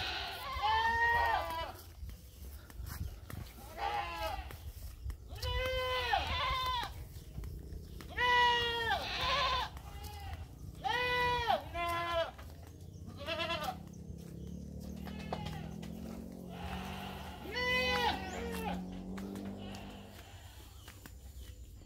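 Several goats bleat repeatedly in loud, overlapping bursts, close by, with a low rumble of background noise underneath, in Madura during the dry season.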